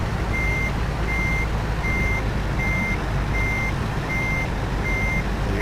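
A truck backing up in the video game American Truck Simulator gives steady, evenly spaced reversing beeps over a constant low engine drone, with no talking.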